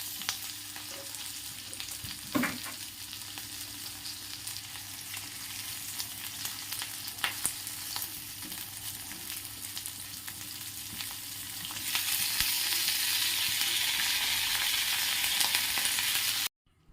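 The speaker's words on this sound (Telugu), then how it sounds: "ఫస్ట్ పచ్చిమిర్చిని వేయించేస్తున్నాను చూడండి" Green chillies frying in a pan for peanut chutney, a steady close sizzle with a few faint clicks and scrapes, the hiss swelling louder near the end before cutting off.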